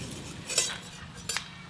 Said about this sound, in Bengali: বড়ি এই তো গরম তেলে নাড়তে নাড়তেই ভাজা হয়ে গেল